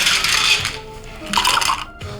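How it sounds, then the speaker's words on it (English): Ice cubes dropped into two Bloody Mary glasses: two bright clattering bursts of cubes hitting glass, close and loud, with a brief pause between them. "So next up, we're just gonna ice both of these up."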